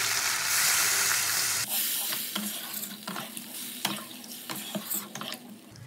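Water is poured into a pan of frying potato and cauliflower masala: a loud steady sizzle, then a sudden drop at the pour, followed by bubbling and stirring clinks and scrapes close by, with no talk.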